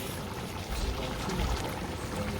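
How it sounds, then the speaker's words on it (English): Water pours into a bowl while pot roast is being prepared, a faint continuous splashing stream, steady and brief with no talking over it. "Put a little water in this."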